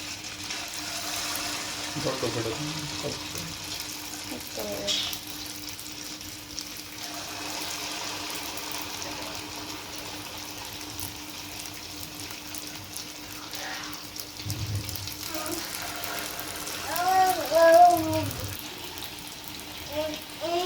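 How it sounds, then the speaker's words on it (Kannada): Small blobs of Mysore bonda batter fry in hot oil, giving a faint, steady sizzle while a person talks over it. "ಎಣ್ಣೆ ಚೆನ್ನಾಗಿ ಬಿಸಿ ಆದಮೇಲೆ ಹಿಟ್ಟನ್ನು ಸ್ವಲ್ಪನೇ ತಗೊಂಡು ಬಳ್ಳಿಯಲ್ಲಿ ಬಿಡ್ತಾ ಬನ್ನಿ"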